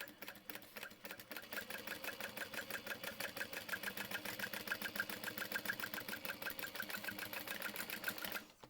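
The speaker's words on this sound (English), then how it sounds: "you're going to sew the entire length of this" A sewing machine runs steadily along the full length of a handbag seam with a 1/4 inch seam allowance, its fast needle rhythm continuous and close for about eight seconds before it stops.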